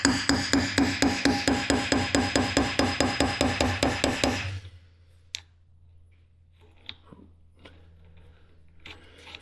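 Steady rhythmic hammer taps on a part while installing the rear axle of a 1996 Ford F350 4x4 dually truck, about twenty evenly spaced metallic knocks over four seconds, then quiet with a few faint clicks.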